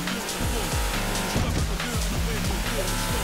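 A car driven in a video game revs with a rising and falling engine pitch in quick repeated gear shifts, loud and close, while voices talk over it.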